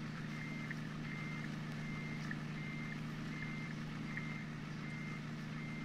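A truck reversing on a construction site in Farming Simulator 2013 gives out a steady, regularly repeating beep over a low engine hum, fairly faint, with no voices.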